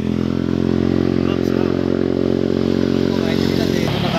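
A Yamaha NMAX scooter engine drones steadily and close while riding, a constant buzzing hum with no change in pitch.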